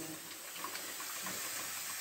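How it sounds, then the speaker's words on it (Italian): Fine water spray misting olive cuttings, a faint, steady hiss of droplets lasting a couple of seconds with no talking. "io questo lavoro di spruzzarle così gliela do una volta al giorno"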